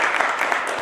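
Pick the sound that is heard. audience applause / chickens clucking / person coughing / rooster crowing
audience applause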